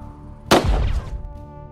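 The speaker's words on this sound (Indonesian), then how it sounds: "tembakan itu terdengar oleh Emma, yang langsung menyangka kalau tembakan tersebut berasal dari orang yang sedang berburu" A single loud gunshot, fired at a rock, cracks out sharply and is followed by a brief rumbling echo that fades away.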